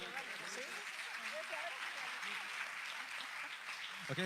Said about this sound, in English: Give another round of applause to Evertech.